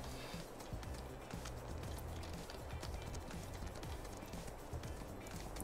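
Horse hooves clip-clopping in a steady trotting rhythm while riding through town in Farming Simulator 19, continuous and fairly quiet under a dense, busy game soundscape.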